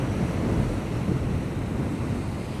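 Heavy ocean surf rolls continuously against the rugged Steep Point coast, a loud, dense wash with wind buffeting the microphone and no voices.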